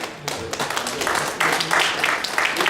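Applause for a pastor at a church ministers' family retreat, a room of hands clapping steadily and fairly close, swelling louder midway through, with a voice speaking under it at the start.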